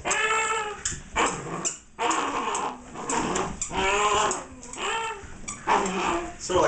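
A police K9 puppy, a Malinois, whines, yips and growls in loud, repeated bursts from close by, with a person speaking among the cries.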